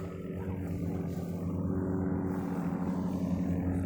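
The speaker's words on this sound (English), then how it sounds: "And I believe that's the plane that just took off from here not long ago." Airplane flying away after taking off from Morristown Municipal Airport in Tennessee, a steady distant engine drone and rumble that holds evenly, with no talk.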